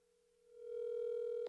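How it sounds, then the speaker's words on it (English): A phone call rings through on the line as a single steady tone that swells gradually, holds and then cuts off sharply, quiet and heard alone. "Answer the phone."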